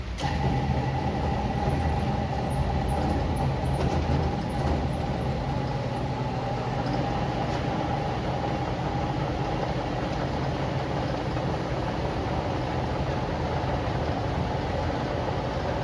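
A restored 1960s lathe spinning fast in a workshop, producing a loud, continuous droning hum with steady mechanical whine throughout, close and unbroken.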